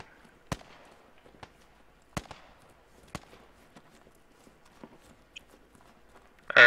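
Scattered gunshots in the military shooter Squad, sharp distant cracks at irregular intervals with quiet gaps between, then a sudden louder burst at the very end.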